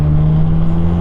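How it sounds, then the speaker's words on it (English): A Mazda FC RX7 with a 13B turbo rotary engine holds a loud, steady, close droning note for about a second, with no voices. "That rotary engine just screams."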